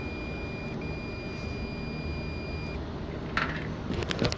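A continuous high-pitched electronic beep tone from an HVAC package unit sounds over a low background hum, then cuts off, followed by faint clicks and rustling.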